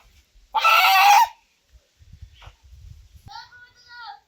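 A country desi hen with its legs tied gives a loud, harsh squawk lasting about a second, then quieter clucks and rustling follow, ending with a short higher-pitched call near the close.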